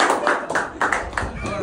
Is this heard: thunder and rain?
no